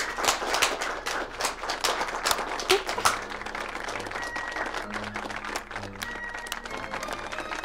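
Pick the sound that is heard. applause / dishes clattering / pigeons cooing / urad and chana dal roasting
applause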